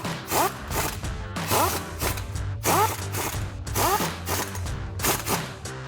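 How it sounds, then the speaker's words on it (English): Impact gun tightening the nuts on 2-inch hubcentric wheel spacers fitted to a Jeep Wrangler JL, giving about five loud rattling ratchet bursts in quick succession, each with a rising whine, close up and without talk. "I'm just going to throw my impact gun on the other side. We're going to tighten these down"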